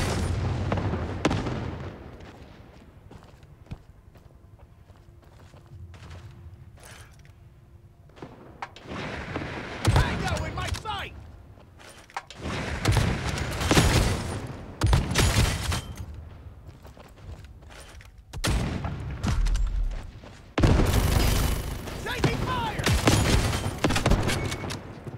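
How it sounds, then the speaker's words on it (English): Enemy turret fire in the shooter game Modern Strike Online: repeated loud booming blasts and volleys in several bursts, with quieter gaps between them, the heaviest salvos near the end. "Enemy turret is firing."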